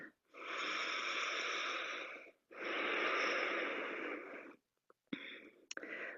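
Slow, deep breathing during a yoga pose, two long airy exhales heard close and soft, followed by a few faint rustles.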